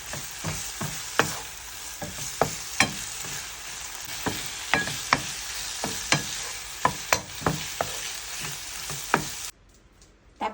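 Ground pork with bell pepper and a soy-gochujang sauce stirred in a pan over medium heat, a steady sizzle under repeated sharp spatula scrapes and taps, close and fairly loud, ending in a brief quiet moment.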